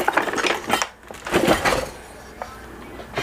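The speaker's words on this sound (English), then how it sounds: "Let me get my wooden spoon out." A wooden spoon is pulled from a crock of kitchen utensils while making smoked turkey gumbo, giving a few close, quick clattering knocks and rattles.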